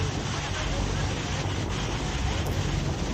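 Iguazu Falls roars beside a boat as a dense, loud, unbroken wash of falling water, heavy with wind buffeting the microphone.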